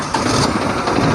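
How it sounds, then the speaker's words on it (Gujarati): A farm tractor engine starts up close by with a loud, steady, rough rumble and no break. "તો સ્ટાર્ટ કરીએ ટ્રેક્ટર"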